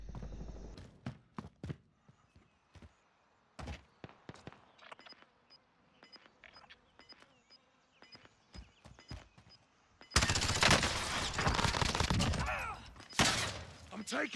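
Gunfire in a first-person shooter game: scattered sharp, close shots crack across the first ten seconds, then a dense, loud barrage of sustained fire takes over for the rest.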